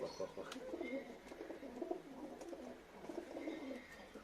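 Sürmeli pigeons coo softly and close by, their low, repeated burbling calls running throughout over faint background noise.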